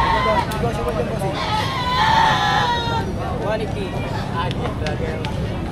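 An Anglo-Nubian goat bleats at a livestock auction in Padre Garcia, Batangas, a wavering cry rising amid nearby chatter and crowd noise, with people talking throughout.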